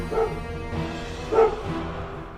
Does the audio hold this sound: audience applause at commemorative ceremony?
no